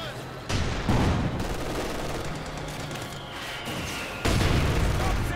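Heavy gunfire and booming hits strike a bunker in the World War II strategy game Company of Heroes 2, with dense loud bursts and a sustained battle roar throughout.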